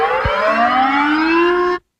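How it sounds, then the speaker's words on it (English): An emergency alert siren sounds loud and close in a single steady wail that rises gradually in pitch for almost two seconds, then cuts off abruptly into silence. "That's a normal siren, I actually think."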